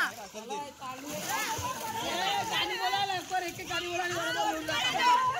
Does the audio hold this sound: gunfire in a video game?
no